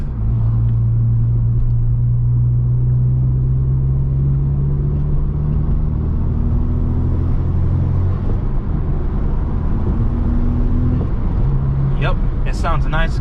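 A 2020 10th-gen Honda Civic Si fitted with a PRL Cobra cold air intake idles with a loud, steady low rumble that holds throughout, and a brief voice comes in near the end.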